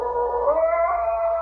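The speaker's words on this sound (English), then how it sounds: "I've got to get rid of that blasted dog." A dog howls in an old-time radio drama, a single sustained wavering howl heard close and clear, filling the whole moment on its own.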